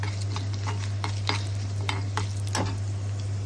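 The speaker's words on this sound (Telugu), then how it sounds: "ఆవాలు, జీలకర్ర అవి వేగుతూ ఉండాలండి. నూనె వేడిగానే ఉంది కాబట్టి త్వరగానే వేగుతుంది." Mustard seeds and cumin fry in hot oil, scattered sharp pops and crackles over a soft sizzle and a steady low hum, close by and with no voices.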